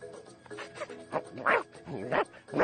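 A cartoon dog in an animated Garfield episode barks and yips in a short burst of a few sharp, rising calls, close and fairly loud.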